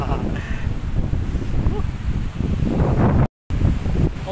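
Wind blowing steadily across Cirewang beach in Subang, a continuous loud rushing buffet against the microphone with surf-like noise underneath and a brief dropout near the end.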